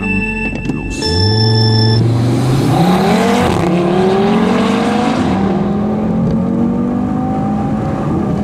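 An APR-tuned Audi TT RS 8S pulls away from a standing start, its loud, close engine note climbing steadily in pitch through a sustained hard acceleration.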